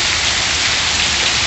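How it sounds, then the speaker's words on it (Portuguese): Heavy rain pouring down beside a house wall in the Pernambuco backlands: a loud, dense, unbroken hiss of falling water and drops hitting surfaces, with no voices. "Mais chuva no sertão de Pernambuco"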